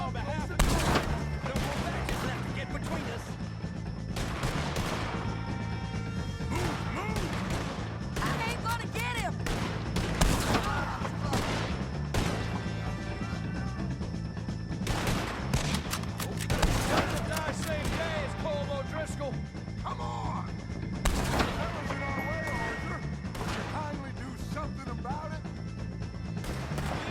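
Gunfire in the video game Red Dead Redemption 2, a rapid string of loud sharp shots with irregular spacing over a sustained battle din, with voices talking and shouting underneath.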